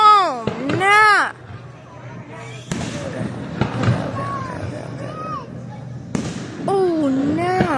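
Fireworks bursting at a baseball game: a few sharp booms stand out amid crowd noise, with an excited voice cheering and whistling over the show.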